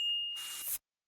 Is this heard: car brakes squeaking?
no